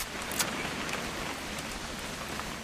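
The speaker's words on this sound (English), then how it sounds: "It's gonna rain the whole weekend, isn't it?" Rain falls steadily in the video game What Remains of Edith Finch, a constant hiss of drops on surfaces with a few brief louder patters.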